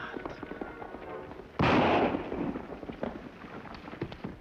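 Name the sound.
rifle shot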